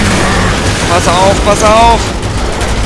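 Gunfire rings out in the video game Resident Evil 6 during a boss fight. Quick shots come in a short burst while excited German speech carries over the top.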